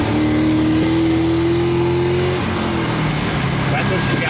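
A BMW E46 with a swapped 4.8 LS V8 engine revs and pulls hard, its steady, loud drone rising in pitch before shifting, heard from inside the car with people chatting over it.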